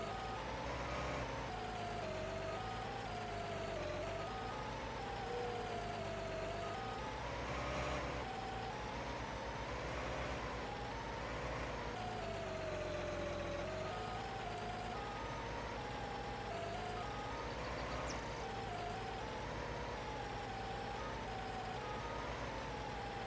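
A tractor engine in Farming Simulator 19 drones continuously and loudly, its pitch rising and falling with a whining tone as it works, and no voices are heard.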